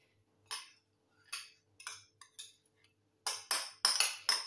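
A utensil knocks and scrapes against a bowl as carrots are stirred into carrot cake batter, giving a string of separate clinks that come faster and louder toward the end, close by, with no talking.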